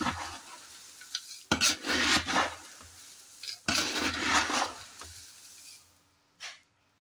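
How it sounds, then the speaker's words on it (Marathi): Dry chivda snack mix with crushed sev is tossed and stirred by hand, giving soft rustling, rasping bursts in a few separate strokes, close and fairly quiet. "आता हा सगळा चिवडा आता छानपैकी मिक्स करून घ्यायचा आहे"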